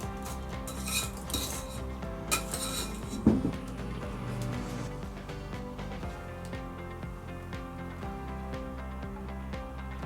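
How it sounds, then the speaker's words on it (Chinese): Egg yolk mixture being folded into whipped egg whites for homemade mango ice cream, with light utensil clinks and bowl scraping over steady background music and no speech. "先少量放入蛋黄酱里面均匀混合，然后再把它倒入蛋白里面。"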